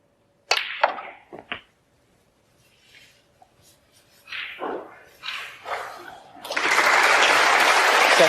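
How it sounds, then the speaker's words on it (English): Snooker crowd in a Welsh venue applauding a frame ball, a burst of clapping rising at the end after scattered knocks, thuds and brief noises in a quiet hall. "Yes, applause for frame ball."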